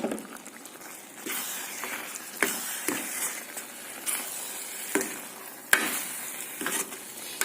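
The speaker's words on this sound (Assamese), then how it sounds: "এইখিনি ভাজি হৈ গৈছে, আৰু এতিয়া মই গেছটো অফ কৰি দিম।" Coconut and rice flour frying in ghee in a pan, stirred with a steady sizzle and repeated scraping strokes of a spoon at irregular intervals, close and moderately loud with no talking.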